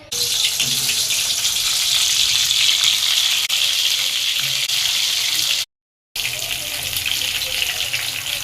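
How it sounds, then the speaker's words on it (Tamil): Brinjal pieces coated in masala fry steadily in hot oil for a Tamil oil kuzhambu, a loud continuous hiss and crackle that breaks off briefly near the end before resuming, with no voices. "கத்திரிக்காய் எண்ணெயில் பொறிச்சு உள்ளே போட்டுடலாம்"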